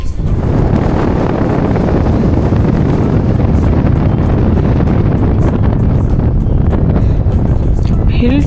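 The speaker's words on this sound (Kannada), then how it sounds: "ಫಾಗ್, ಗಾಳಿ ಶಬ್ದ ತುಂಬ ಮ್ಯಾಜಿಕಲ್ ಇತ್ತು." Strong wind buffets the microphone on a foggy rocky hilltop, a loud, continuous roar with no break.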